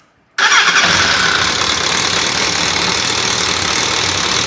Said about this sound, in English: Go ahead and get the bike running.